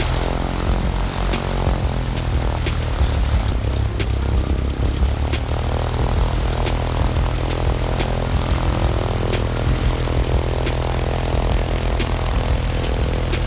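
Small propeller airplane heard from inside during flight back toward Memphis, a loud steady engine drone with a low throbbing hum and an even, unbroken tone throughout.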